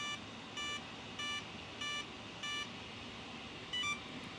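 A Spektrum Firma ESC in an Arrma Outcast 8s 1/5-scale RC car beeps during SET-button programming: five evenly spaced high electronic beeps, then a brief double beep near the end, over a faint steady hum.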